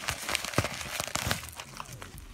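A mail package's top seam is split open and the contents pulled out, giving close, loud bursts of crinkling and tearing packaging in irregular rustles, with no talk.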